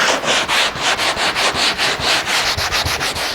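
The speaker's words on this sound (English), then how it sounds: "sanding it down to the surface of the foam" Rapid back-and-forth sanding on a wood spar down to the foam surface, a rhythmic scratchy rasp of about five strokes per second, close and steady.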